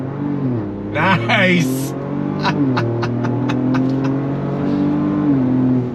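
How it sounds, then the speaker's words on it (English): A 2025 Ford Ranger Raptor pulls away from a stop under throttle, its exhaust note rising steadily over several seconds, loud and close, while people talk over it inside the cab. "Love the real deal sound coming out of the exhaust."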